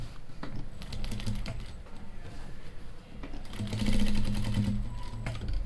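A sewing machine stitches fabric in close, steady rapid runs, with a short pause before a louder final burst of stitching.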